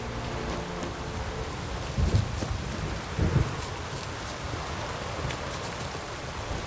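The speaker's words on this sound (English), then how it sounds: "A storm, damn it." Thunderstorm with steady rain in The Witcher 3 video game, a constant hiss of rainfall with two low rumbling thunder bursts close together in the middle, no talking.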